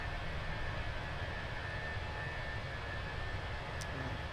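A steady, even airplane engine drone from Microsoft Flight Simulator 2024 holds as a constant, fairly quiet broadband rush with no change throughout.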